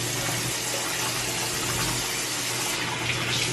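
Cold water running steadily from a tap as a face is washed, a constant close, full-bodied splashing hiss with no pauses, heard alone.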